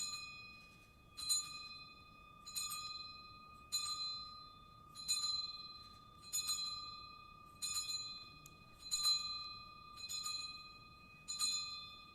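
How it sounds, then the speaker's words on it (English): A bell rung during a formal ceremony marking America's 250th anniversary, its bright, ringing strikes repeating at a steady, even pace, each tone sustaining and fading before the next, clear and alone in a quiet hall. "our interns will now ring the bell 13 times"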